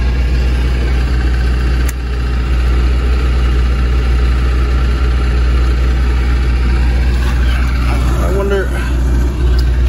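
An Onan Marquis 7000 generator runs loud and steady with a deep, constant drone throughout, and a voice comes in briefly near the end.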